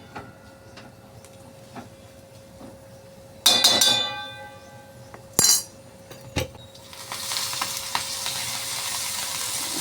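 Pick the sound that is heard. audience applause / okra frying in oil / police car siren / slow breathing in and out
okra frying in oil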